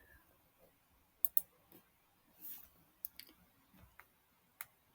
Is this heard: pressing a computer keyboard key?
yes